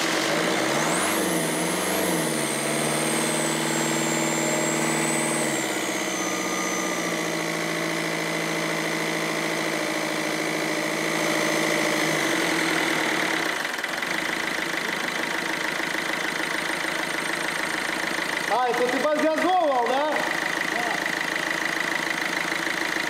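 A Ford Fiesta 1.4 TDCi diesel, F6JA engine, runs steadily and close at idle for a long stretch, with a droning rumble, a thin high whine and brief shifts in pitch.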